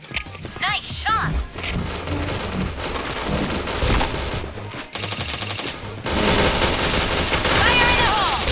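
Rapid video game gunfire, bursts of automatic weapon shots mixed with explosions and other game effects, loud and continuous, with players talking over it.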